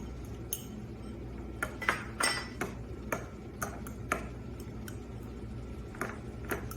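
Parsley, garlic, olive oil and walnuts being mixed into a sauce, with a run of light clinks and taps of a utensil against a glass or bowl, scattered irregularly and fairly close.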